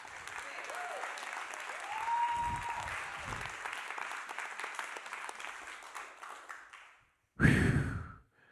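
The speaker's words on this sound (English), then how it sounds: "Somebody clap your hands and shout." Congregation at a church service clapping and cheering in a sustained wash of applause, with a brief gap and then a louder burst of crowd noise near the end.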